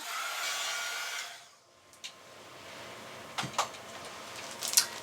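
A hair dryer blows close and steady to dry paint on skin, then switches off, followed by a few faint clicks and light handling sounds.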